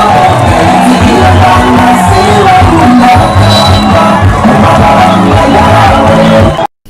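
A large crowd of citizens near the Mutimbuzi River greets the president with continuous loud cheering, whoops and shouts, a dense roar of many voices that holds steady before cutting off abruptly at the end.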